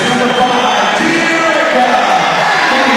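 A WNBA Finals basketball arena crowd roars in a steady, dense wash of cheering and yelling that holds loud and unbroken throughout, with a radio broadcaster's voice likely buried in the din.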